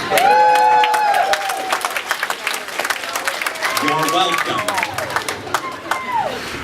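Comedy club audience bursting into applause and cheers after a stand-up's impression of a local TV meteorologist, loud steady clapping throughout, with the comedian talking briefly over it.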